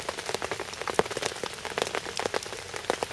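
Rain patters on a fishing bivvy in a steady, close, irregular drumming of drops on the fabric, alone with no voices.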